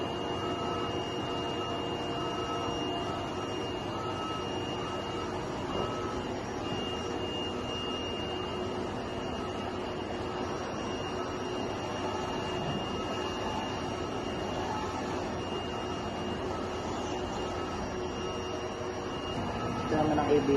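A printer running a nozzle check on its printhead gives off a steady, even mechanical hum with a thin tonal whine that holds unchanged for about twenty seconds.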